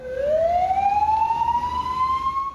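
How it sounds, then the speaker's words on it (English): A police siren sounding flood warnings in China during Super Typhoon Ragasa wails steadily upward in pitch, loud and fairly close, over a low rumble of traffic. "police cars sounded sirens for new flood warnings"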